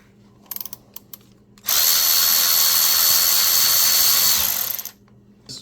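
A power driver backs screws out of an engine part on a Fiat 500 1.4L, giving one loud, steady whirring burst of about three seconds, preceded and followed by light clicks and handling noises.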